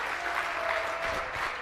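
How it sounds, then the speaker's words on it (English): Audience applause fills a room at a business talk, a steady, dense wash of clapping from a crowd that holds constant throughout the short stretch without pause. "he wants you to stand up and applaud"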